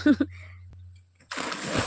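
A person jumps headfirst into a river, landing with one loud watery splash after a brief shout and a quiet pause.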